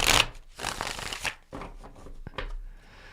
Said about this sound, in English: while I shuffle your deck